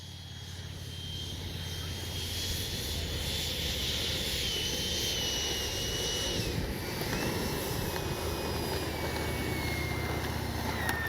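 A Freewing F-22 90mm electric ducted-fan RC jet rolls out across grass after landing, its steady turbine-like whine and broad roar continuous and fairly close, with a high tone sliding down as the fans spool.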